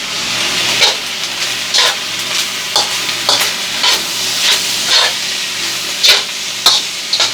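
Filipino fried rice in teriyaki sauce being stir-fried, with a steady sizzle and repeated scraping strokes of a spatula against the pan at an irregular rhythm, close and fairly loud, without talk.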